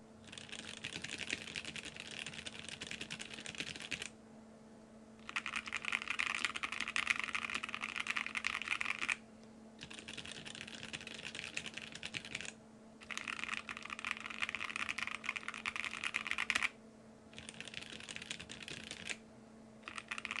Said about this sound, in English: So here we go, just quick typing.